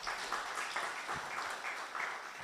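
Applause from a health summit audience, fairly quiet and steady, the individual claps blurring into a soft continuous patter for a couple of seconds.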